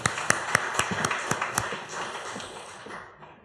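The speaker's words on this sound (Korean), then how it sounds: "박수로 격려하십시다." A church congregation at a Sunday morning worship service applauds a choir, with crisp, evenly spaced claps that blend into a softer patter and fade away within a few seconds.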